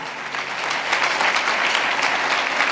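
A congregation at a Christian sermon meeting in Beas Pind claps together in a brief, dense burst of steady applause.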